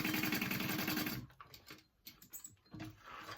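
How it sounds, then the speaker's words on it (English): Sewing machine running a quarter-inch seam through fabric for a clutch bag, a fast, even rhythmic whir for over a second, then stopping, followed by faint handling noises and a brief restart. "I'm just doing a 1/4 inch stitch here"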